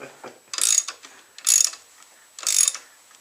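A socket ratchet turns a tank bolt on a 2015 KTM 690R Enduro ABS motorcycle, giving three short bursts of close, bright clicking about a second apart, with quiet pauses in between.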